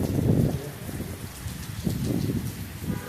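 Rain falls steadily at night outdoors, a close, continuous patter with low rumbling texture and no voices.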